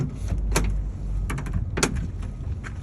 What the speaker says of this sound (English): My door opens, closes properly.